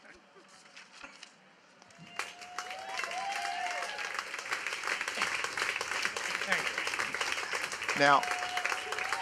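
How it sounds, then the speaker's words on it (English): Audience applause at a pet industry expo, a crowd clapping and cheering that swells after a quiet start and holds steady, with a host's voice and a whoop heard over it. "some serious applause here."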